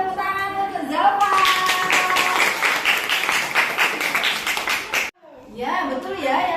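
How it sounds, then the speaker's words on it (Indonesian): A classroom of students claps for a classmate who answered a question, steady close applause for about four seconds with a teacher's voice before and after it. "kasih tepuk tangan untuk Zalfa."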